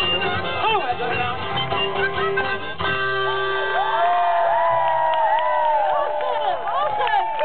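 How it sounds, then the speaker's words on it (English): Festival audience at the Big Chill 2010 cheering and whooping for Pokey LaFarge and the South City Three, a loud continuous roar of many voices with shouts rising above it. "Give them a big cheer."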